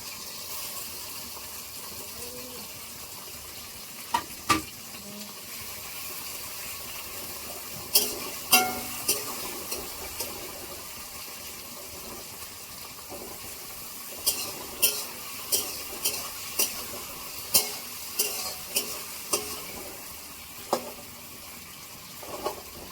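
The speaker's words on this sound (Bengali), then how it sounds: "এটাকে হালকা করে ভেজে নিতে হবে।" Chopped ginger and onion fry gently in a pan, a quiet, low sizzle broken by scattered clicks and scrapes as the pieces are stirred, with no voices.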